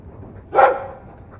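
A dog in a Dragon Age 2 cutscene gives one short, clear vocal burst near the middle, alone against a quiet game background.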